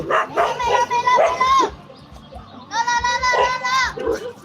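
A dog barks and yelps close by during a Buddhist Lent candle procession, mixed with voices and a thumping rhythmic beat.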